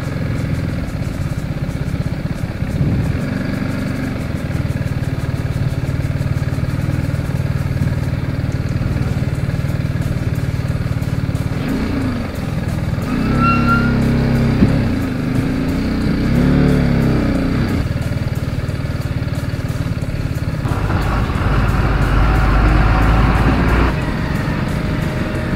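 A TVS Apache RR 310 motorcycle rides along a rough diversion road, its engine droning steadily and loudly up close throughout, with rumbling road and wind noise and a brief heavier surge near the end.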